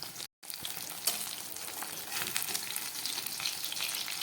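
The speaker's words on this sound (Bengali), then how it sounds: "মাছটাকে আমি ভাজা করে নিচ্ছি" Fish frying in hot oil, a close, even sizzle and crackle that cuts out briefly near the start, then carries on steadily with a single sharp tick, no speech.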